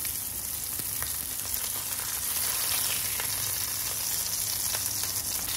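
Meatballs fry in an oily pan, giving a constant soft sizzle with scattered small pops and crackles, close up and without talk.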